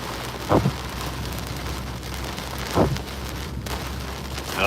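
Steady rain patters on a surface during a hurricane, a constant wash of noise with a couple of brief louder thumps.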